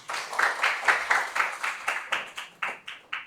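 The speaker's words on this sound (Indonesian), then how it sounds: "Tepuk tangan sekali lagi." Audience clapping in unison at the opening of a vocational high school skills competition, a dozen or so sharp, rhythmic group claps in a steady beat, fairly close and clear, with no talk over them.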